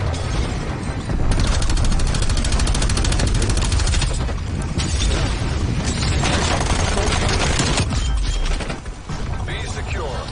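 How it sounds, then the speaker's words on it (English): Heavy gunfire and explosions from a hostile strafe run in Call of Duty: Black Ops Cold War, loud and dense, with rapid bursts and booms running almost continuously for about ten seconds. "Hostile strafe run inbound."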